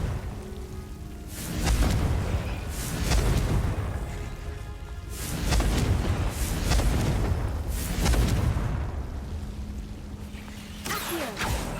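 The Confringo fire spell blasting repeatedly in the video game Hogwarts Legacy, several booming bursts arriving in a rough rhythm every second or two, each with a heavy low thud and a crackling tail.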